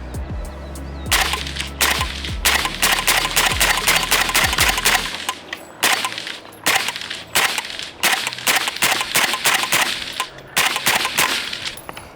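A suppressed FN firearm fires rapid strings of sharp, muffled shots in quick bursts, with short pauses between volleys, close and crisp but without a loud boom.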